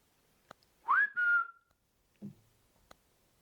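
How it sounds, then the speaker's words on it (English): A person whistles a short rising then level two-part note inside the Shanley Hotel during a quiet paranormal investigation, followed by a faint low thump and scattered clicks in near silence. "Can I whistle for you?"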